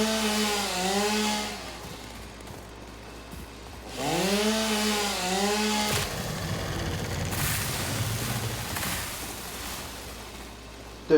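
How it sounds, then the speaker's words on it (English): Chainsaw in the video game Satisfactory, clearing vegetation: two rising, revving engine bursts with a wavering pitch, then a rougher stretch of loud, grinding cutting noise that runs steadily to the end. "There's no better invention than the chainsaw, in my eyes."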